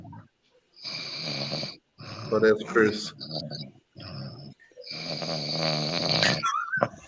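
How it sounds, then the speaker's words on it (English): A man snores loudly and rhythmically, long rasping breaths repeating close to the microphone, while another person speaks briefly over them. "somebody's snoring, bro"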